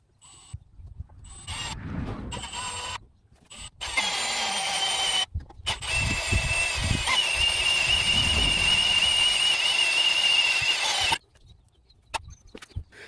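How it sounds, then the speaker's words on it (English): A Harbor Freight drill bit boring a 7/16 hole in stages, a steady loud high whine of the drill motor cutting metal that runs for several seconds after a few brief starts and stops. "let's see how this Harbor Freight drill bit does"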